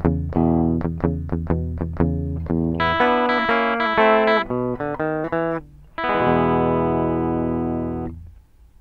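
Plain electric guitar riff recorded dry without effects or distortion, played alone: a run of short, clipped picked notes, then sustained chords and a final held chord ringing out at the end, close and clear.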